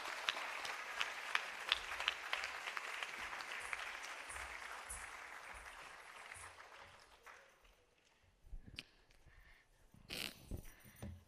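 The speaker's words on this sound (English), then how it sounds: "can we have a louder round of applause for Medha, please?" An audience claps after a Bharatanatyam dance performance. The dense, steady applause fades gradually into scattered claps and a few faint sounds.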